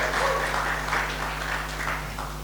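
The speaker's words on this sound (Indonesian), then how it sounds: "Kita berikan tepuk tangan dulu buat Pak Pendeta ini" A church congregation applauds as a pastor is invited to the front, with moderate, steady clapping over a constant low electrical hum.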